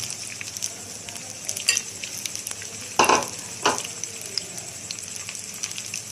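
Bread pakoras fry in a pan of oil over a low flame, giving a steady close sizzle with a few sharper spatters and stirring clinks, no talking.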